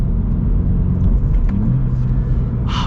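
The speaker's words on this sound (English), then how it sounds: "those downshifts are like perfect" A 2023 Subaru BRZ Limited with a manual gearbox is heard from the cabin as a steady, loud engine and road rumble, with the engine note shifting as the driver downshifts and no talking.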